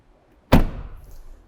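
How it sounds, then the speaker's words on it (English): A rear door on a BMW iX xDrive50 electric SUV swings shut with a single close, fairly loud thud that lacks a hard, solid thunk and fades into a soft rattling tail, with no voices. "the sound of closing the door feels like there's something missing"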